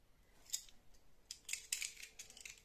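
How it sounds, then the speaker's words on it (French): Scissors snip through paper offcuts for a handmade mini album, a few quick crisp cuts at close range, quiet and without voices. "Donc ensuite je vais couper."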